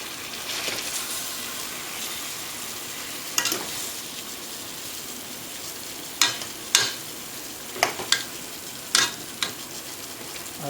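Chicken stew for Spanish-style pollo guisado cooking in a pot on high heat, with a steady broad sizzle and bubbling throughout and several sharp spattering pops toward the end; no talking.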